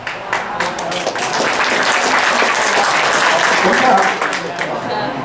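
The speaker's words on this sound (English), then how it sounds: "Don't clap." Sustained applause from a live political rally audience, steady and fairly loud for several seconds, swelling slightly before tapering off at the end.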